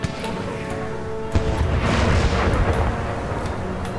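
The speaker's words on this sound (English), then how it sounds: "They've taken a lot of casualties from the cannon fire." Cannon fire booms across a battlefield in Empire: Total War: a heavy blast lands just past a second in, over a continuous rumble of distant artillery and battle noise.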